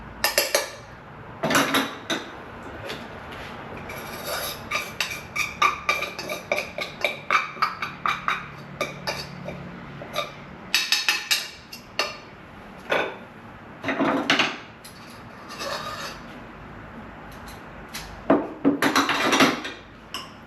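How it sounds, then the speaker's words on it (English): A spoon scraping and knocking against the bottom of a gumbo pot, a string of uneven metallic scrapes and clinks at close range, with short busy bursts and quieter gaps. "we scrape the bottom of our pot"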